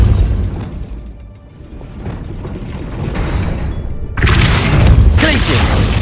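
A Depulso spell blast fires in the video game Hogwarts Legacy, a loud, broad burst erupting after about four seconds of low rumbling ambience, with a second surge near the end.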